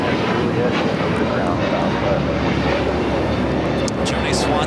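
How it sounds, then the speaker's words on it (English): A Delta Airbus A320neo jet at LAX roars with a loud, steady broadband engine rush that fills the whole moment, with a voice faintly under it. "Delta A320 with Neo heading to Atlanta"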